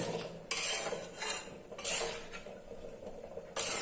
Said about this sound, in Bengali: এবার একটু নেড়ে নেব, যেহেতু আমি ঝোলের জন্য অ্যাড করেছি এটাকে